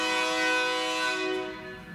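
A loud, sustained train horn blares close by, its steady tones holding before fading slightly toward the end.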